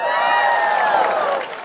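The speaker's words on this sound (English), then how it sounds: "Now, some of you are clapping," A stand-up comedy audience claps and cheers loudly in a packed venue, a sustained roar of whoops and applause that eases off toward the end.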